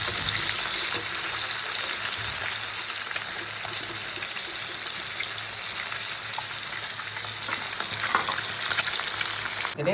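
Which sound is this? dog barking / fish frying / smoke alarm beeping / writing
fish frying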